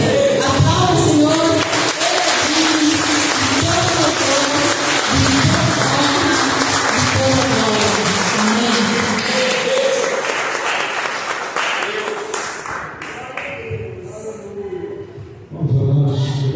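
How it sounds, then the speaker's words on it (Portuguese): Church congregation applauding during a Sunday missions worship service, loud sustained clapping from a large crowd with cheers mixed in, fading gradually before a brief swell at the end. "Aplauda o Senhor."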